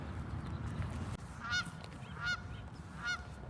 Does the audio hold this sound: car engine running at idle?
no